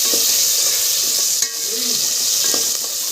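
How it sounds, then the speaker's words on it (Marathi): Ginger garlic paste dropped into hot oil, giving a loud, continuous close-up sizzle with a few clinks of a spoon stirring through it. "अद्रक पेस्ट टाकली लसूण अद्रकची"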